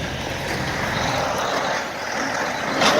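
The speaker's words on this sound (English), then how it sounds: "We got a backhoe." A backhoe engine runs steadily and close by, a continuous rumbling drone with a diesel truck-like character and no voices over it.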